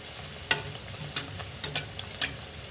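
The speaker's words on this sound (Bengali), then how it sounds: "একটু লাল লাল করে ভেজে নেব।" Chana dal puri filling frying in a pan for Kolkata-style dal puri, a quiet steady sizzle broken by several sharp scraping stirs of a spatula, with no talking.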